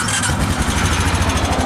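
A 2016 Honda TRX420FM1 ATV engine runs at a steady, close, rhythmic idle, loud and continuous with a throbbing low pulse.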